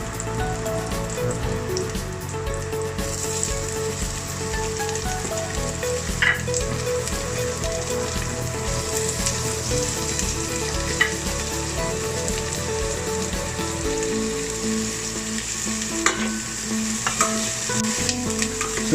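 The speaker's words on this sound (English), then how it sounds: "Sauteing the onions will take like for me it's like 3 to 4 minutes." Onions sautéing with golden-browned garlic in a pan, a loud continuous crackling sizzle like steady rain, with occasional light stirring knocks throughout and no talking.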